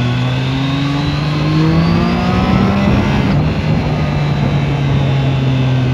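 A Triumph Trident 660 three-cylinder motorcycle accelerates hard out of a roundabout, its engine note climbing steadily and loudly over six seconds with continuous wind rush and no talk.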